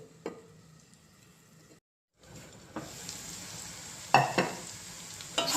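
Bitter gourd (kakarakaya) frying in a pan, a steady soft sizzle with a few louder scraping stirs near the end, interrupted by a brief silence early on.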